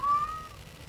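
Alien planet inhabitants let out a single cat-like yowl, a high wavering cry that slides and fades over under a second against a low rumbling background.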